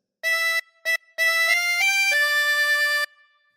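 Solo harmonica plays a phrase of Hey Diddle Diddle, opening with three blown notes on hole 5, the second very short, then a long held stretch sliding through a few pitches before stopping, close and clean.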